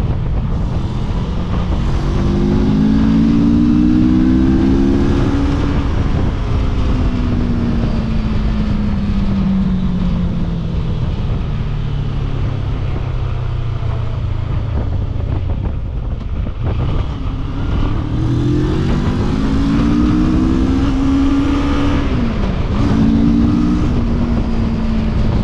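A CFMoto ADV 650 motorcycle engine rises and falls through the revs as it accelerates. The tone climbs, drops back and climbs again, loud and sustained under heavy wind rush.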